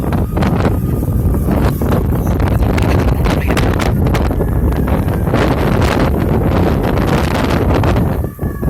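Powerful hurricane wind gusts roar continuously into the microphone outdoors in a city during Hurricane Jose, a loud, buffeting rush with rattling and flapping bursts throughout, easing slightly only at the very end.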